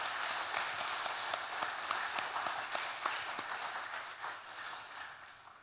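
A church congregation claps in encouragement for its ensemble during a worship service, the applause soft and distant, with a few sharper individual claps standing out.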